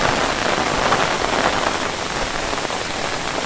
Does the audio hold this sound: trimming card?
no